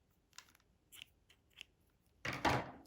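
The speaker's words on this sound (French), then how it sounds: "Je coupe mon fil" Scissors cutting crochet yarn up close, a few soft quiet snips followed by a louder brief rustling swish of thread.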